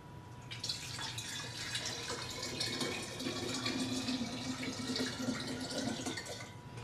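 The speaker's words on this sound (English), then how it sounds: "And then I'm going to pour it into the next bottle." Cleaning solution poured from one glass bottle into the next, a continuous close gurgling trickle of liquid at an even level throughout with no talking.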